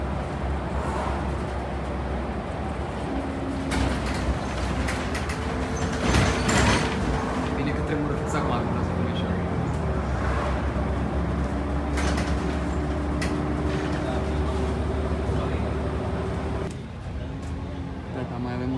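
SkyTrain metro train on the Expo Line, with continuous rumbling and hum of the moving train, a brief rise in noise as doors slide, and a drop near the end.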